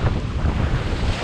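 Winter sea off Mersea Island heard from a kayak, rough waves and surf rumbling under heavy wind buffeting on the microphone.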